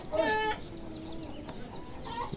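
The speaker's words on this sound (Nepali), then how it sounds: "अन्त यहाँ कुखुरा हेर्न सक्नुहुन्छ है" Chickens cluck nearby in short bursts at the start and end, with quieter clucks and faint bird calls in between.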